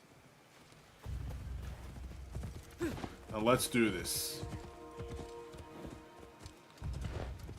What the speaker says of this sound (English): Call our beautiful horse.